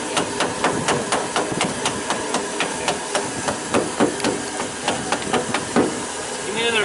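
Repeated sharp hammer blows drive a wooden wedge during damage control training, ringing out steadily over loud rushing water spray, with people talking and calling out nearby.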